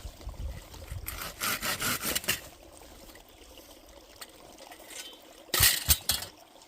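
Several rough rasping strokes of a hand saw on wood, a short burst of sawing, a lull with faint background noise, then a few more strokes.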